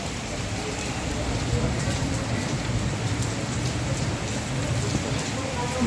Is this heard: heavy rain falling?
yes